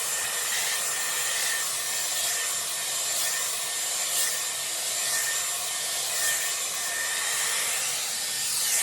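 A Dyson Airwrap hair dryer runs on its cool shot setting, a steady close airy whoosh with a bright high whine, continuous and alone for the whole stretch.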